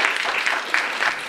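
Brief burst of audience applause in a school gathering, scattered hand claps at moderate distance with no voices over them.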